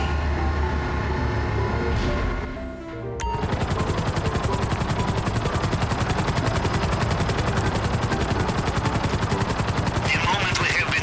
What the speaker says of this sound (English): you can use the helicopter to go there.